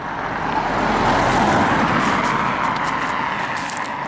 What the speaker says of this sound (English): Car passing, not excessive speed.